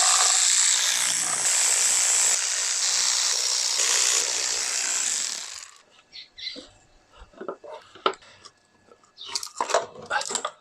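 A power tool whirs loudly and steadily during engine work on a twin-turbo VR4 Legnum wagon, then stops, followed by scattered clanks, scrapes and handling noises of parts being worked on.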